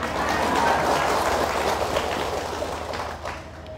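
A hall audience at a Buddhist monk's dharma talk claps loudly in a dense burst of applause that gradually thins and fades toward the end.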